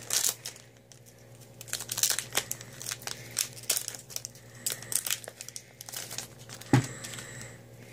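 A Pokémon Primal Clash card pack being opened up close, with bursts of foil crinkling and tearing and irregular crunchy rustles that peak near the end.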